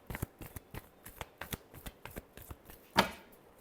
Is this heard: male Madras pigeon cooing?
no